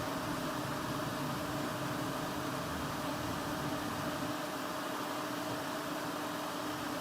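A Bambu H2D 3D printer runs a print, filling the air with a steady, even hum and whir of fans and motion that holds unchanged throughout, with no talking.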